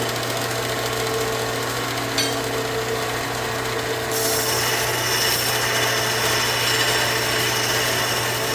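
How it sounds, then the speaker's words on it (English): A belt sander grinds and shapes the corners of a homemade knife blade, its motor humming continuously with an abrasive rasp that brightens and grows harsher partway through as the blade presses harder against the belt. "we can put this baby here on the belt sander and get all of our corners right"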